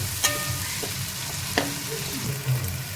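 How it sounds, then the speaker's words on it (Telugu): Cut tomato frying in oil with ginger-garlic paste for a Rayalaseema-style pulao, a steady close sizzle broken by a few scraping stirs of a spoon against the pan. "కట్ చేసి పెట్టుకున్న ఒక టొమాటోని వేసుకొని బాగా ఫ్రై చేసుకోవాలి"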